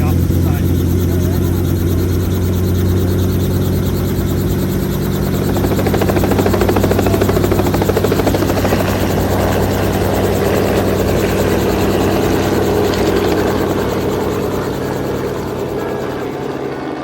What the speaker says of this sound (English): Just went up on a helicopter ride.